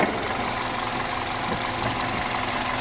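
A 2010 Hyundai Avante HD engine idles steadily and evenly close by with a low, continuous rumble and faint mechanical rattle, no voices.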